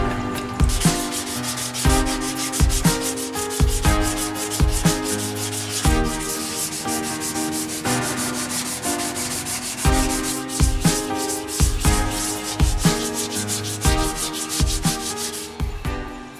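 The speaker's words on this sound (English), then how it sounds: "Now comes wet sanding the glaze." Wet sanding body filler glaze by hand with 180-grit paper on a repaired cracked plastic car bumper: rhythmic back-and-forth rubbing strokes repeat steadily and close up over a continuous background.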